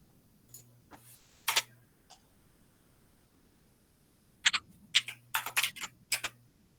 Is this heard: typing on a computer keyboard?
yes